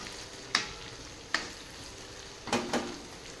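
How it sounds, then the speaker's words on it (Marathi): Onion masala browning in a pan is stirred with a spoon, giving a few sharp scrapes and clinks spaced apart over a soft, steady sizzle. "आता आपण एकदा गिरवी हलवून घेऊ मित्रांनो."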